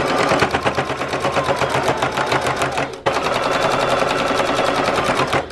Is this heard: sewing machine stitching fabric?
yes